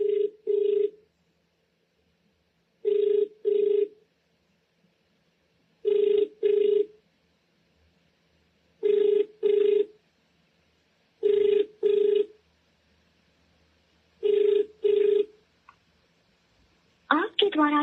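Telephone ringback tone on an outgoing call, pairs of rings repeating steadily at about three-second intervals with silence between, clear and alone, ending in a short burst of other sound.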